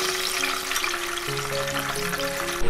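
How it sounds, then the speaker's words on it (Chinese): Pre-cut green and red peppers deep-frying in hot oil, giving a dense, steady hiss of bubbling oil that stays close and even throughout. "再来把提前切好的青红椒过一下油，过一下油就可以捞出来。"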